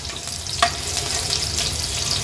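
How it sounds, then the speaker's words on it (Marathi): Garlic cloves frying in a little hot oil for a catfish-egg curry, a continuous close crackling sizzle with one sharp utensil tap early on. "लसणाच्या पाकळ्या आपण फोडणीला घालणार आहोत।"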